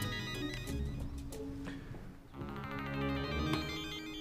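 A mobile phone ringtone plays steadily for several seconds, its repeating melodic tones close and clear with no talk over it.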